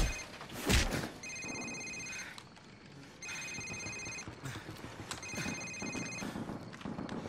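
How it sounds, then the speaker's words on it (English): In Call of Duty 4, a cell phone rings with bright electronic trill bursts repeating in three spaced rings over a murky, low ambient background with some shuffling movement. "Sir, it's his cell phone."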